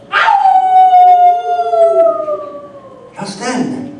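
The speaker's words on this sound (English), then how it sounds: "Just then, a howl pierced the night." A single long, loud howl in the night, staged as an audio drama effect, rises sharply, then slowly falls, followed by a short rougher yelp.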